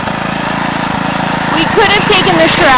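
A BCS walk-behind tiller engine runs steadily in a garden planted with potatoes, a loud, close, continuous drone, with someone speaking over it near the end.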